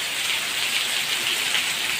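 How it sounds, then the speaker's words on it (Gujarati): Steady, dense unseasonal winter rain hisses evenly on surfaces with no voices, a continuous wash of drops close by. "પાછો વરસાદ આવ્યો"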